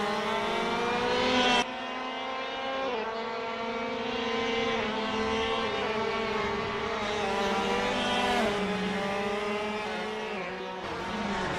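KC Shifter Kart TM K9C karts racing at Royal Raceway in Assetto Corsa, loud high-revving engines rising and falling through gear shifts, several karts close together with constant buzzing whine.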